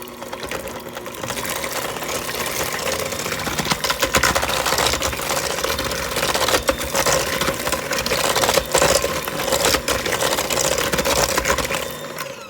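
Electric mixer whirring steadily through oatmeal cream pie batter with eggs and molasses, a loud continuous motor buzz with slight rattles, close and alone without talk.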